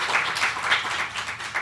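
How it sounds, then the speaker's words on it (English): Audience applause at a panel event on fair wages, moderate clapping from a crowd heard somewhat at a distance, with a few sharper claps standing out in an uneven patter. "Give Saru a round of applause."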